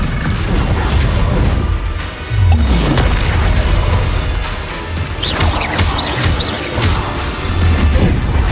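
Confringo blasting spells explode in a Hogwarts Legacy battle against a goblin attack, producing repeated heavy booms and crashing impacts that overlap in a dense, loud barrage.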